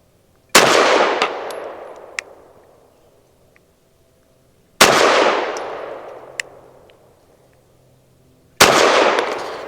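Three single shots from a Ranger Arms RA9 Defence 2 pistol, evenly spaced about four seconds apart, each a sharp, loud crack followed by a long fading echo.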